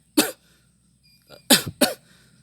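A person coughing: one sharp cough, a short pause with a faint throat sound, then two more quick coughs close together, near and clear with no talk.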